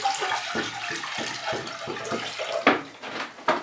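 Clean water runs from a tap for watering Cymbidium orchids, a close splashing flow with repeated short pulses and gurgles, loud and without talk.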